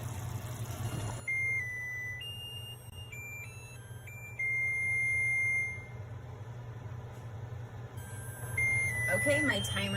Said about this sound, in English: Okay, my timer is off.